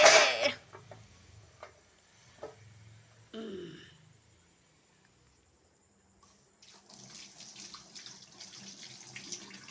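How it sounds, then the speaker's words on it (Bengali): A tap gushes briefly and loudly as a bone is rinsed under it in a home kitchen, then the sound drops to quiet clinks, and a softer, hissing run of water follows near the end. "দাঁড়াও হাড় আগে ধুয়ে দিই"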